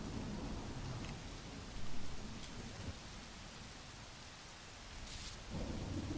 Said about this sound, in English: Even in the rain, I should be fine.